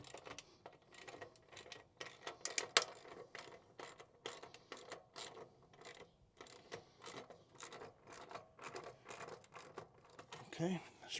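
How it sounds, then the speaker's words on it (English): A ratchet wrench with a 15mm socket loosens the exhaust clamp on a 2024 Harley-Davidson Road Glide CVO ST, rapid quiet clicking bursts in irregular runs, close up and faint. "We'll use the 15mm socket to loosen the clamp."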